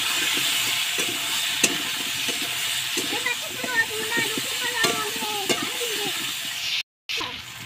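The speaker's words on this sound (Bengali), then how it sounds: "দেখো হলুদ দিয়ে আমার কিছুটা সময় ভাজা হয়ে গেল কলাটা আর আলুটা।" Raw plantain and potato pieces fry with turmeric in a pan, giving a steady sizzle broken by scraping stirs, with a brief dropout near the end.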